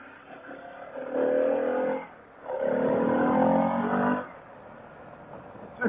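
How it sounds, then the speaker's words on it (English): Harley-Davidson Pan America motorcycle ridden along a rural Pennsylvania road, its engine rising in two strong bursts of acceleration with a short dip between them, under wind noise. "Riding the Pan America."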